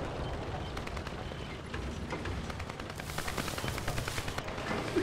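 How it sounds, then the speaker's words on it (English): A small vehicle-mounted cannon in a video game fires a rapid stream of shots at a wall, repeated sharp pops running steadily and growing denser and louder toward the end. "I suppose we could use that little cannon to put a few holes in the wall"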